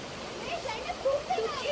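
River water flowing and splashing around someone bathing, a steady wash with small splashes that sits under faint voices.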